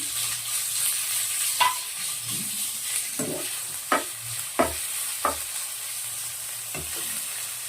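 Chicken keema frying in a pan with ginger garlic paste, a bright continuous sizzle broken by several distinct spatula knocks and scrapes at irregular intervals.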